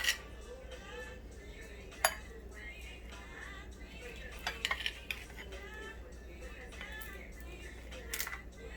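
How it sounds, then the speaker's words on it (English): A tablespoon stuffing ground beef and potato filling into tortillas for tacos dorados, with light scraping and clinks of metal against a dish, intermittent and close, under faint background noise. "I like to use a regular spoon, like a tablespoon, to stuff it right in there."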